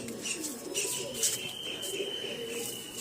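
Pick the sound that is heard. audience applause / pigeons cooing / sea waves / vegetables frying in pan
pigeons cooing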